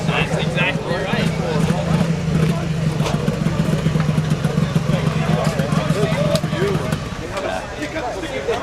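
A two-stroke motorcycle engine runs steadily at a market meetup, its rough buzzing drone close and continuous under people talking, then dropping off near the end.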